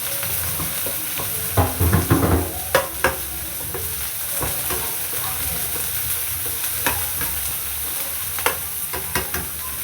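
Onions and green chillies fry for chicken fried rice, a loud, steady oil sizzle close up, broken by repeated scraping stirs of a spoon against the pan.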